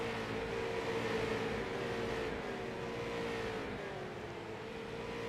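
Race cars at speed on the Nashville Fairgrounds Speedway oval: a continuous loud engine drone with rising and falling harmonic whine as the cars pass, steady throughout with no break.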